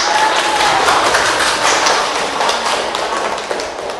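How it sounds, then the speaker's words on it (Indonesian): Classroom applause from students, brisk continuous clapping from a group of hands, loud and close, tapering slightly toward the end with no voices over it. "Iya, tepuk tangan"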